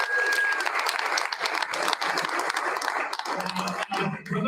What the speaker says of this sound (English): Another round of applause for all of our students of the month.